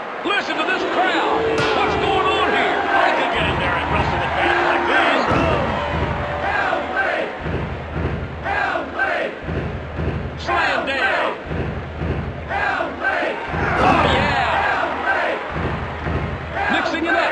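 Wrestling crowd in the WWF War Zone video game on N64 roaring in a loud, continuous swell, punctuated by repeated heavy slams and thuds, with a commentator talking over it.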